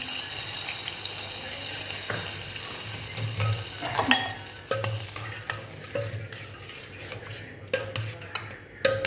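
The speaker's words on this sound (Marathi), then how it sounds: "फोडणी या दह्यात ॲड करूया छान." Spiced tempering with curry leaves and asafoetida poured into curd for bread dahi vada, a soft sizzle followed by spoon stirring and clinks in a bowl, moderately close with faint background noise.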